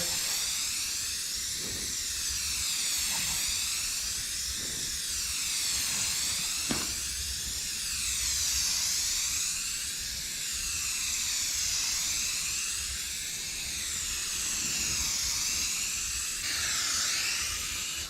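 A tack coat of paint is sprayed onto a 1966 Chevy C30 in a steady, airy hiss that swells and eases in slow waves as the spray gun passes, with a faint low rumble underneath and no talk.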